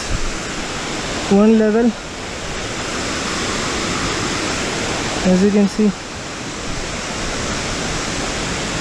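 The Badalgiri waterfall rushes in a broad, steady roar close by and fills the whole scene, while someone speaks briefly over it twice.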